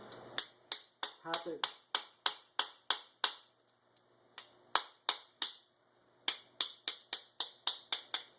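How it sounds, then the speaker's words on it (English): A hammer taps a bearing onto a motor shaft in quick, sharp, ringing metal strikes, a run of about ten hits, a pause, then two more steady bursts, close and clear. "tap it until the bearing hits the C-clip that you put on earlier"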